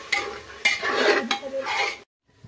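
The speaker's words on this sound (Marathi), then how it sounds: "आता पालक आपण आपल्याला छान मस्त परतून घ्यायचं आहे." Spinach paste with potato is sautéed in a pan for green pulao, heard as a brief bout of stirring and utensil scraping against the pot over a soft sizzle, with sharp clinks before it cuts to near silence.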